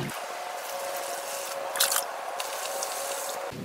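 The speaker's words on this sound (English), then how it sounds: "We put some water inside." Water poured into a hydroponics box, a steady hissing splashy stream running for several seconds at close range, fairly quiet and without talk.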